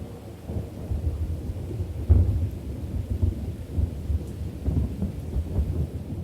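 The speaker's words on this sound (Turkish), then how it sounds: "Dışarıda hafif bir yağmur var." Rain falls outside with a soft, steady wash, broken by a few low rumbling swells that sound like distant thunder, and no one speaks.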